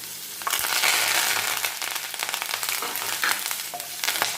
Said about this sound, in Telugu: ఇప్పుడు ఇందులో మనం చిన్నుల్లిపాయ క్రష్ చేసి పెట్టేసుకుందాం.